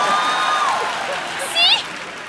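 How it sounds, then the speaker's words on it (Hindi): A studio audience at The Kapil Sharma Show applauds in a steady clapping wash, with a brief swell near the end. Voices speak over it. "ठोको ताली, खड़े।"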